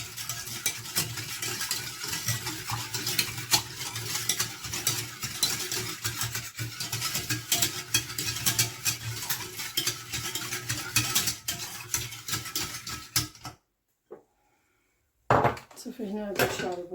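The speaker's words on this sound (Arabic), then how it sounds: "نديرو فوق البوطه وانا كنحرك فوق البوطه وهو كيطيب حتى كتطلع معنا الكريمه" Cream mixture being stirred in a pot on a gas stove, rapid clinking and scraping of a utensil against the pot, steady and close for most of the clip before stopping briefly and resuming near the end.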